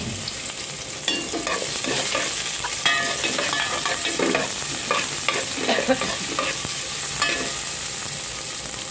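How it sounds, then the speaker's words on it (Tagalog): Onions sautéing in a pan for sinigang na isda sa miso, a continuous close sizzle broken by frequent spatula scrapes and stirring clatter, no speech. "maggisa tayo ng sibuyas"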